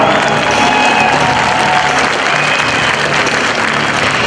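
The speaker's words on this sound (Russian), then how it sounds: "еще раз ваши аплодисменты бойцам" Dense, steady applause from an arena crowd at an MMA bout rises in honour of the fighters, a loud continuous wash of clapping with some cheering mixed in, filling the whole stretch.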